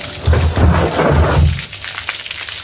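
Water gushing from a hose pipe into a drum: a loud, close, rumbling splash that surges for about a second and a half, then fades to a softer trickle, with no talking.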